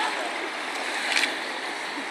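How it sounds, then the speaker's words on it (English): Wine poured into a single shared cup during a wedding ceremony, a steady liquid trickle with a brief brighter splash near the middle, continuous and close. "So why don't we pour the wine?"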